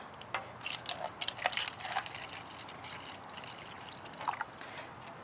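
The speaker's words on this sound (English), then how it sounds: "you're going to take the water and you're just going to fill them up, get a good amount of water in each cup" Water poured from a container into disposable plastic cups for a galaxy jar craft, a close trickling and splashing with short bursts of pouring, fairly quiet and without talk.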